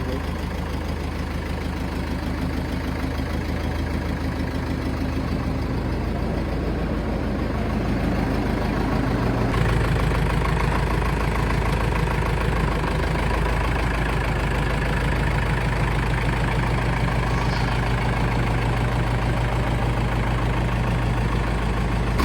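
A Hindustan 5911 tractor engine idling close by, a loud, steady low rumble with an even throb that holds for the whole stretch, with no talk over it.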